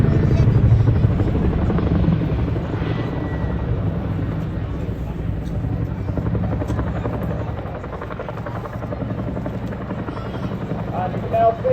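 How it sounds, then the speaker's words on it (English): A Chinook helicopter brakes hard from high speed at the Blackpool air show 2022, its loud pulsing rotor roar filling the air throughout while an announcer talks over it. "This is a manoeuvre we use to bring this Chinook to a stop from 120 knots or more in a very short"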